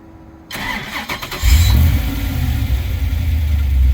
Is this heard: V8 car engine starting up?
yes